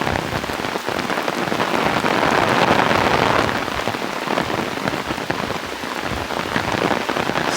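Steady heavy rain pours down on surfaces during a city walk in Chester, Pennsylvania, a dense, loud, continuous hiss with close patters of drops and no pauses.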